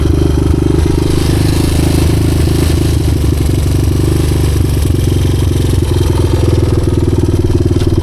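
A 1986 Honda XR200R dirt bike engine runs continuously after an idle adjustment, a loud, close, even single-cylinder putter with a steady low pulse and some light mechanical clatter, with no talking.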